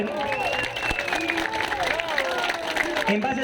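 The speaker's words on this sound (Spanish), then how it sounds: "fuertes palmas para la congresista Silvia Bazán" A crowd at a popular public gathering in Peru applauds to welcome a congresswoman, giving dense, continuous clapping with a babble of voices underneath.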